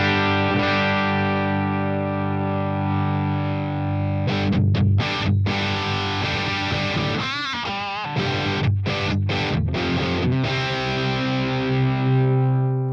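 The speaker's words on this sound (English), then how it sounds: "Alright, so that's a good overdrive sound." Electric guitar played through a Boss Katana 100 MKII head set to overdrive, sustained distorted chords ringing loud with a few choppy stabs midway, no voices.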